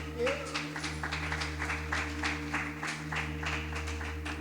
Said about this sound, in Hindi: आए इस बात के लिए तालियां बजाएं।